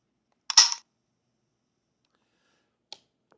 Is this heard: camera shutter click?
yes